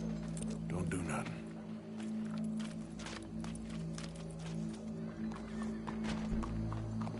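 A horse clip-clops at a walk in the Red Dead Redemption 2 video game, its hoofbeats soft and irregular beneath talk and a steady low hum.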